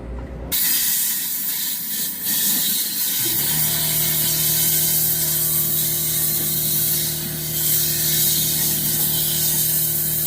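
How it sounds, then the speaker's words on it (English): A loud, continuous spray of cleaner into a lawn mower carburetor, held upside down, hisses steadily for several seconds after a brief clicking start. "just hold it upside down and spray it"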